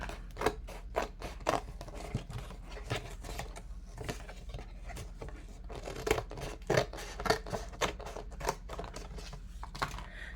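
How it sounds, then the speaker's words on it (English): Scissors snip the small edges off sheets of hand-dyed journal paper, a quick run of crisp, close cuts with brief rustles of paper between them and no talking. "Cutting the little edges off of it."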